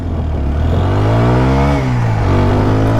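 A 2024 TVS Apache RTR 160 4V motorcycle accelerates hard through the gears, its engine note climbing steadily in pitch, dipping briefly at a shift, then rising again, loud and close with no talk.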